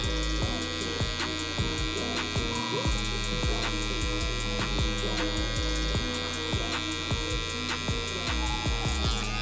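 Electric hair clippers buzz steadily during a high taper haircut, with repeated short strokes of clipper-over-comb work giving a rhythmic pulsing to the close, constant hum.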